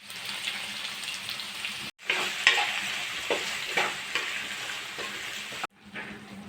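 Green capsicum sautéing in a pan for restaurant-style chilli chicken gives a steady, close sizzle broken by scraping stirs, with two brief pauses in the frying.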